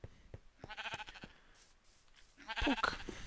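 Sheep bleating in the Minecraft video game, two or three short wavering bleats, one early and one louder near the end, with a few soft clicks between.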